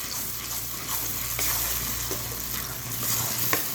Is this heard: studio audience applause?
no